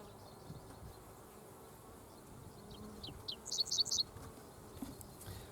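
Honeybees buzz around an open hive outdoors in a faint, continuous drone, with a few closer buzzy bursts toward the end.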